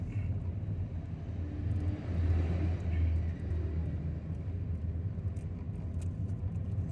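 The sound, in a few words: cars passing on a misty road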